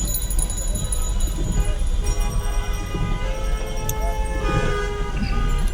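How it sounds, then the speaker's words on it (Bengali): Jammed traffic at Shapla Chattar in Dhaka on a rainy day, a steady loud roar of engines and rain with horns tooting repeatedly through it, near and far, with faint voices in the mix. "বৃষ্টির কারণে আজকে ঢাকা শহরের রাস্তায় প্রচুর জ্যাম লেগেছে"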